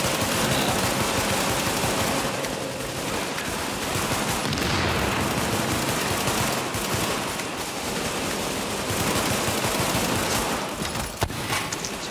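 Sustained heavy gunfire in The Division, pistols only in the Lincoln Tunnel during a four-player co-op fight: dense overlapping shots rattling continuously and loudly throughout, with no gaps.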